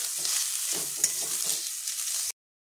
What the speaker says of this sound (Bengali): নারকেল কোড়াটা আমি হালকা ভেজে নেবো।